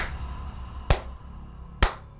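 Two sharp hand claps ring out close to the microphone, spaced about a second apart, over a quiet low background hum.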